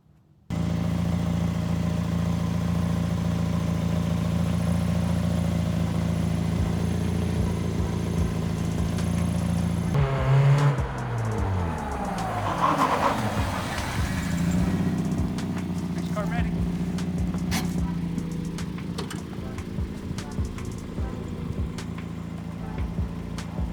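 A Mazda Miata rally car idles steadily, then pulls off and drives, its engine rising and falling through gears, with talking heard over the running engine.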